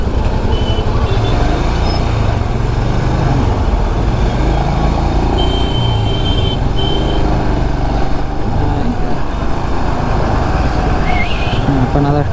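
A congested road with trucks and cars packed in a jam produces a loud, steady rumble of idling engines and traffic, heard close and continuous, with faint hints of brakes and beeps.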